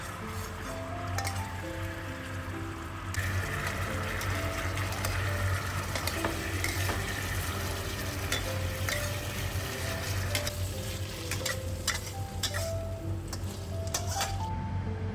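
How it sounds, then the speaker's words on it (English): Fried pork strips stirred quickly in a wok of thickened sweet and sour sauce, a steady sizzle with wet squishing and scraping of the spatula, close and continuous throughout. "Toss the fried pork strips into the thickened sauce, stirring quickly to coat every piece evenly"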